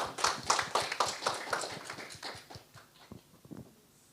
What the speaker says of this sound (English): We should have like a round of applause.